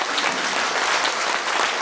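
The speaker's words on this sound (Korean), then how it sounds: "박수 부탁드립니다" Audience applause at a party members' gathering in Gimcheon, a steady dense clapping from a crowd that runs evenly for the whole stretch with no voices on top.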